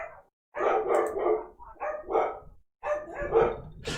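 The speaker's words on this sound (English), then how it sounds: "I think the neighbor dog came over" A neighbor's dog barks close by in several bursts, each a cluster of rough woofs with short silent gaps between them, loud and alone without any talk.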